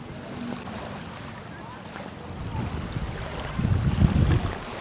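Wind buffets the microphone over a low rumble of sea waves on a beach in Mabini, Davao de Oro, Philippines, with the gusts growing stronger toward the end.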